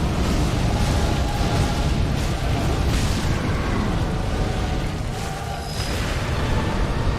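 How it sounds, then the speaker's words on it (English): A boss's explosion attack in the video game Dark Souls 3 produces a sustained, dense roaring blast that fills the whole stretch at steady loudness, with no speech over it. "Okay, that's the explosion."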